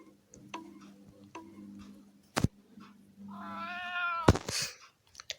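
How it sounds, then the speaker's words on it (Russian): A kitten gives one clear, drawn-out meow close by, after a few soft ticking clicks and a sharp knock, in a quiet room with no talk. "Котенок! Очень милый."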